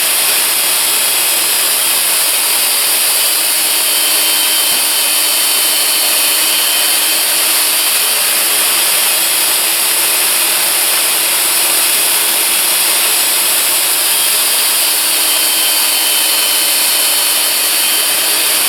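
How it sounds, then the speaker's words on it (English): A belt sander with an 80-grit belt, mounted in a sanding station, works a piece of wood. It gives a steady, loud, continuous whir and rasp that holds unbroken throughout, with no talking. "And now I can sand this way using more of the belt surface."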